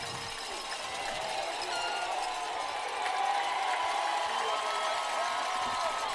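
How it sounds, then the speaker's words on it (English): Home crowd at a Sheridan high school playoff football game, on their feet and cheering: a steady, broad roar of many voices that holds throughout with no letup. "The Sheridan crowd, the Red Rage, is on their feet."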